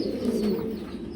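Stretcher fancy pigeons, an aggressive, easily riled pair, give a steady low cooing that runs throughout, close and fairly loud with no talking.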